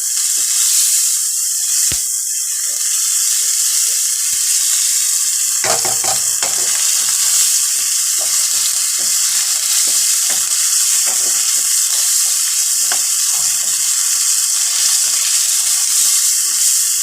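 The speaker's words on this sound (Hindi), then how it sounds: "एक से 2 मिनट तक अच्छी तरह कीमे को फ्राई करेंगे।" Minced meat keema frying in a pan, a loud, continuous sizzle and hiss throughout with occasional stirring scrapes and crackles.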